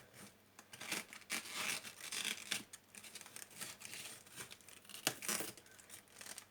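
A knife slicing the thick middle ribs off cabbage leaves for sarma, a series of close, crisp scraping and crunching cuts in irregular bursts, with quieter gaps between strokes.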